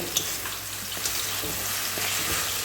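Jute leaves (pat shak) frying in a pan, a close, loud, crackling sizzle with occasional stirring scrapes and clicks, steady throughout and free of talk.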